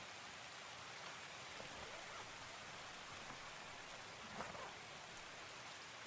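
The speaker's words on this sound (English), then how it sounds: "And the rain continues." Steady in-game rain in the shooter Escape from Tarkov, a constant wash of falling drops that holds evenly throughout, with no voices over it.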